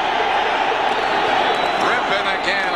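A packed stadium crowd roars and cheers continuously at a 1992 Eagles vs Washington NFL game, with a commentator talking over the steady wall of noise.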